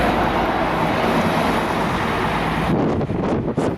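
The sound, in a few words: wind outside the Hungarian Parliament in Budapest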